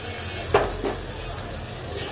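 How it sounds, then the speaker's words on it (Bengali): Fried potatoes tipped into a sizzling spice mix for a potato and soybean curry, with a steady hiss and a brief soft thud as they land, close by and alone. "এখন আমি দিয়ে দেব ভেজে রাখা আলুগুলো।"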